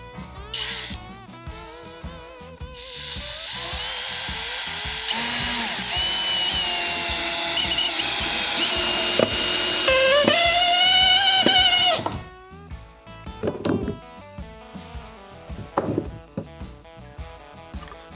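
A power screwdriver drives a screw dry with no pilot hole, short bursts at first, then a long, loud, rising whine that strains and stops abruptly, followed by scattered knocks and clicks.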